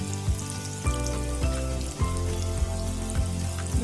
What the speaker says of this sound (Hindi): बिल्कुल लो फ्लेम पे मैं कर रही हूँ फ्राई इसे